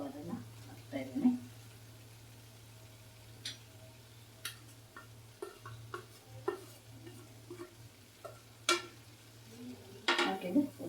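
Capsicum and onion fried in a pan and stirred with a utensil, giving irregular close scrapes and clinks over a steady low hum, with a louder cluster of knocks near the end.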